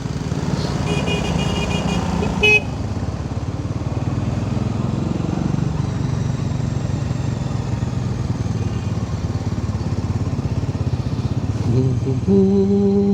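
Busy road traffic in Pune drones on continuously, with motorcycle and car engines passing close by, a steady loud rumble and brief horn-like tones near the start and end.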